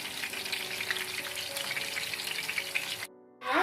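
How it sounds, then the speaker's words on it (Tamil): A whole kilanga lady fish sizzles steadily in hot oil in a pan, a loud continuous frying hiss that cuts off briefly near the end before a burst of spattering. "கிழங்கா ஃபுல் ஃபிஷ் ஃப்ரை"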